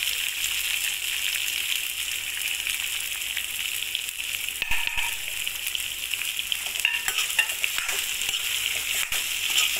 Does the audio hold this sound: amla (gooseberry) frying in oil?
yes